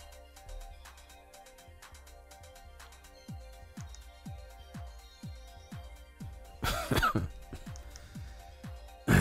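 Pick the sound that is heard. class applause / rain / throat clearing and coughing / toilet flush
throat clearing and coughing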